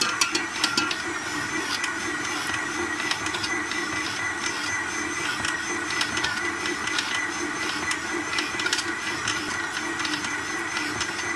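An electric stand mixer kneads brioche dough after butter is added, a steady mechanical whir with faint rhythmic clicks, running unbroken and fairly close.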